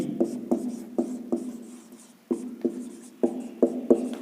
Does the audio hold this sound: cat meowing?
no